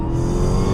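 Dodge Charger Daytona Hellcat accelerating on a highway, a steady loud engine roar heard from inside the car with no talking.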